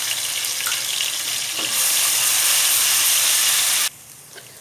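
Garlic ginger paste hits hot oil with lightly roasted garam masala in a pan, setting off a loud, bright sizzle that jumps in intensity partway through, holds steady, then drops sharply to a faint crackle; someone speaks briefly.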